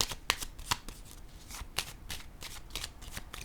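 Tarot cards being shuffled and laid down, giving a run of crisp riffling snaps and soft slaps at irregular intervals, close and fairly quiet, with no talk.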